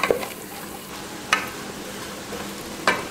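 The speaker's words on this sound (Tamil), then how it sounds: "இந்த அளவுக்கு நல்லா ப்ரௌனாக வதங்கணும்" Onion paste sizzles steadily in a hot pan as it sautés toward brown, with a few sharp scrapes of a stirring spoon against the pan.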